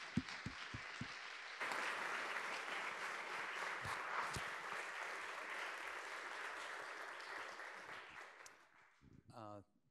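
Enthusiastic audience applause rises and fills a public lecture hall as a Nobel laureate economist is welcomed, sustained steadily for several seconds before fading, with a voice speaking briefly at the end.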